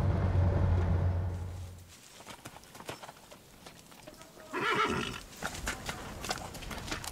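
Horses in the wild Chernobyl exclusion zone snort and whinny amid rustling and scattered hoof clops, with one loud neigh rising near the middle of the sequence.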